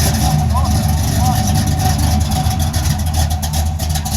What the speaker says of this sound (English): I've got a friend of mine in Italy listening to this V8 rumble.